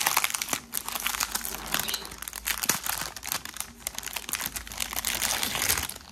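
Crinkly plastic storage packets for cross-stitch threads are opened up close, giving continuous rustling and crackling with sharp crunchy snaps throughout and no talking.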